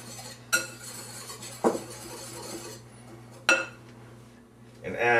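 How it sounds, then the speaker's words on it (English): A utensil mixing ingredients in a bowl after salt is added for chicken Yorkshire: a few sharp clinks and scrapes against the bowl over a quiet steady hum, no voices. "Mix that up a little bit."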